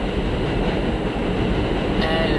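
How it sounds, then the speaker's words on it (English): A train passes close by in Jackson Heights, Queens, New York, a steady loud rumble and clatter of rail cars with a faint squeal of wheels near the end. "And there goes the train right on time."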